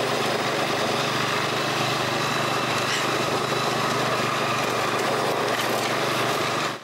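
A lawn mower engine runs steadily and loud throughout at a chalet in August, a constant close-up drone with no pauses and no talk.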